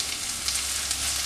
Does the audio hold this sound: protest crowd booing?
no